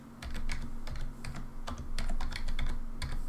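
Quick, uneven clicks of typing on a computer keyboard while writing code in Game Maker, close and fairly loud, with steady low hum underneath and no talking.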